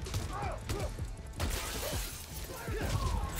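Glass shatters in the Spider-Man: Miles Morales game on PS5, a sharp crash near the middle followed by scattered tinkling debris, mixed with game effects, music and bits of voice.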